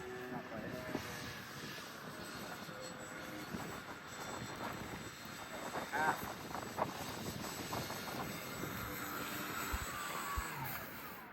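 A Sea Duck amphibious aircraft engine droning at full throttle while landing on a lake in a snowstorm, a faint, steady hum with soft voices talking over it.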